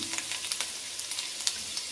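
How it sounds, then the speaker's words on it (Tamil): Hot oil crackling and sizzling as finely chopped ginger fries, a continuous bright hiss dotted with small pops, close by. "எண்ணெய் சூடானோடனே நம்ம வந்து ஒரு ஒன் இன்ச்சு சைஸ்க்கு பொடியாக நறுக்கினா இஞ்சி ஆட் பண்ணிக்கலாம்"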